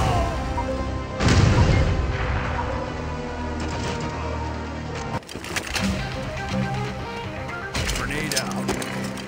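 A grenade blast in the video game Critical Strike booms loudly near the start, followed by later crashing impacts and scattered gunfire-like hits over a dense game background.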